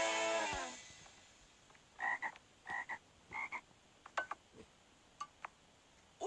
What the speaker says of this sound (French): Aujourd'hui, nous allons étudier les grenouilles